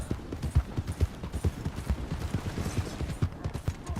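A horse gallops at speed in Red Dead Redemption 2, with a steady run of rhythmic hoofbeats close by and game ambience underneath.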